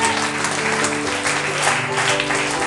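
Church congregation clapping and cheering loudly and steadily in a small hall, a dense continuous roar of applause with a few voices mixed in.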